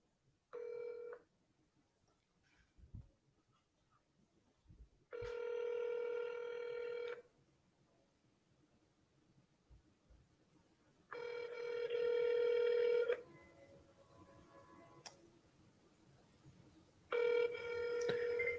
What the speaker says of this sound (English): I'm calling them on a different phone number right now.